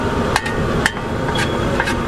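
Grated coconut is stirred in a pan for Kerala spicy mutton curry, with a spoon knocking sharply against the pan about twice a second over a steady close background of cooking noise.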